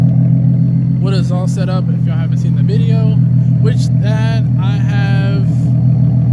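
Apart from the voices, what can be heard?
Nissan 370Z engine revving with ISR exhaust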